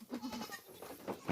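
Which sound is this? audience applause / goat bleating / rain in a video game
goat bleating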